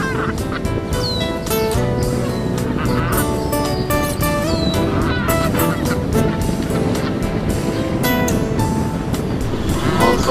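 Geese honking on the beach at Jard-sur-Mer in the Vendée, where a large flock gathers, heard over a dense musical soundtrack that runs continuously at steady loudness.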